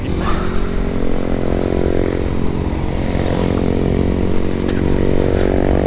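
Motorcycle riding up toward Mount Bromo at dusk in cold, foggy conditions, its engine droning loud and close with a steady throaty rumble and slight throttle swells throughout.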